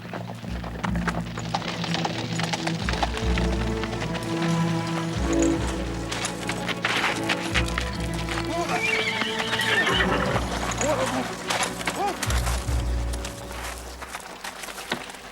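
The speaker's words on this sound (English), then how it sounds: "Stop that horse." A horse gallops with a steady, rapid clatter of hooves and neighs loudly over about fifteen seconds, the hoofbeats close and continuous with no talk over them.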